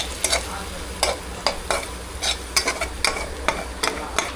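Spices are stirred into chicken frying for a spicy chicken gravy, a spoon scraping the pan in regular strokes about twice a second over a steady close sizzle.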